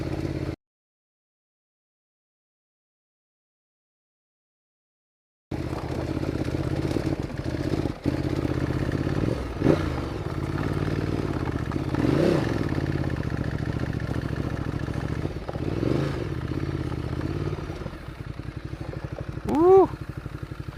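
A Ducati Multistrada 1200 motorcycle riding off-road: after a few seconds of silence, the engine runs steady and loud with mechanical clatter and a rising rev near the end.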